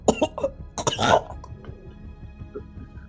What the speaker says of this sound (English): He coughs more into it.